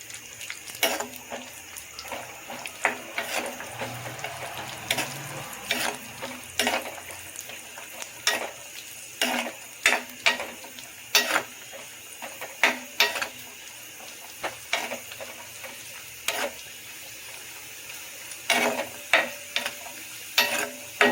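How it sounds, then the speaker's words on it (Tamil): Food fries in hot oil in a home kitchen pan for a festive meal, a continuous close sizzle broken by frequent sharp scrapes and clinks of a utensil stirring and turning the pieces. "அதை நல்லா பொரிஞ்சிச்சு எடுத்துடலாம்"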